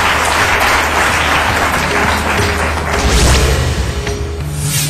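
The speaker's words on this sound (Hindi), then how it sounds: "जोरदार तालियों से स्वागत कीजिए गुरुदेव का।" Loud, dense applause from a studio audience welcoming an astrologer guest onto a Hindi television show, a steady wall of clapping that fills the whole stretch with no voices over it.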